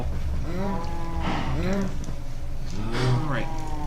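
A cow in the Minecraft video game moos several times in drawn-out, close calls over a steady background, with a voice talking at points.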